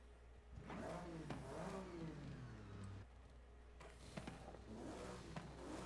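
A rear-wheel-drive drift car engine in Forza Horizon 5 revs repeatedly, its pitch sweeping up and falling back in several loud, close bursts with brief pauses between them.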